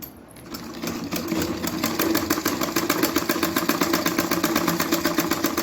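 A sewing machine stitches along a dress neckline toward the shoulder, back-stitching for strength, running as a fast, steady mechanical chatter close up after a brief quiet start, with no talk over it.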